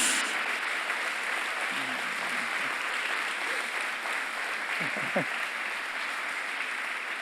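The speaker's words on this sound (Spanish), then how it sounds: "Dale un fuerte pero fuerte aplauso a Jesús" Church congregation applauding at a Sunday evening service, a dense, even wash of clapping that holds steady from start to finish, with a few faint low tones beneath it.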